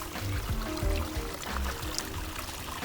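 A small FPV drone being rinsed in a creek, with steady splashing and pouring water mixed with the running stream, busy and close throughout.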